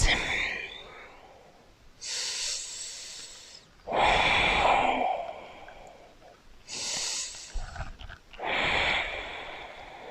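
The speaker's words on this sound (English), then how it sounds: "Slow and steady breaths." Slow, steady breaths during a full-body yoga stretch, heard as a few long, airy inhale and exhale swells, close and soft, with quiet pauses between them and no talking.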